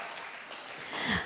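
A room at a church reflection-speech contest breaks into brief applause for the jury, a dense, moderate clapping that swells slightly at the end.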